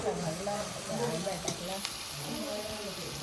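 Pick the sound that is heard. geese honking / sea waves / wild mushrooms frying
wild mushrooms frying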